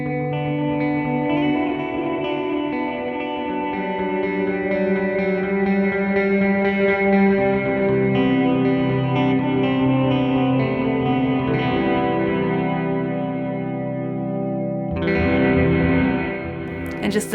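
Electric guitar runs through an OBNE Black Fountain stereo delay pedal with light modulation, sustained chords and notes ringing out with warbling, chorus-like repeats and trailing echoes, followed by a fresh strummed chord near the end.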